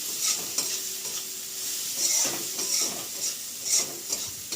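Tomato with salt sizzles gently in a pan for a Bengali aloo dum, with a steady low hiss broken by a spoon scraping and stirring at intervals, close by and alone.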